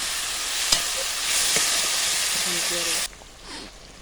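Water poured into a hot pan of hog plum chutney with salt and turmeric erupts in a loud, steady sizzle while it is stirred, then cuts off abruptly and leaves a quieter hiss and a soft scrape.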